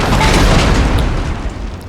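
A single cannon in a Napoleon Total War Waterloo 1815 battle fires at a building, a loud continuous booming rumble with blasts layered over battlefield din, no talking.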